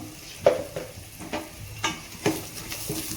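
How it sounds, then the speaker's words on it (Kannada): Grated coconut, onion and turmeric fry and get stirred in a pan, with soft sizzling and a few sharp scraping strokes of the spoon against the pan, close and steady. "ಈಗ ಇದನ್ನೊಂದು ಸ್ವಲ್ಪ ಫ್ರೈ ಮಾಡಿ"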